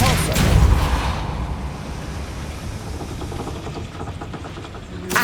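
Depulso force spell cast in Hogwarts Legacy, a loud whooshing burst at the start that trails into a rumbling, rattling wash before another short hit at the end.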